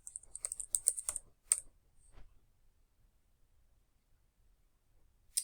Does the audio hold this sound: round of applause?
no